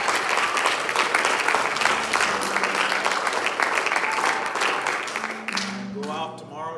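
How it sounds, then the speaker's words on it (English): Church congregation at an evangelist's service breaks into sustained, dense applause that fills the room, then tapers off as a voice begins. "Let's give the Lord a hand clap for us."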